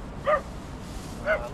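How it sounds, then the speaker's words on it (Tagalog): A dog barks twice, about a second apart, at moderate distance in an outdoor spot where people are fishing. Each bark is short and yipping, with a steady low background between them. "Tahol ng tahol eh."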